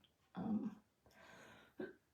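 A single muffled cough close by, followed by a softer breathy throat sound and a brief short burst, with no talking.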